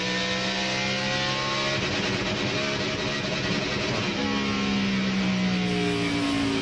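A NASCAR Winston Cup race car engine with a dying battery drones loudly and steadily at Richmond International Raceway, its harmonic tones shifting in pitch as it runs down the straightaway, with a rough, uneven character.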